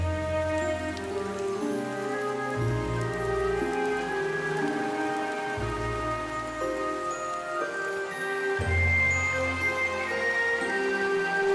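Heavy rain pours down in a desert deluge, a dense, steady hiss across the whole stretch, mixed with a loud sustained musical score.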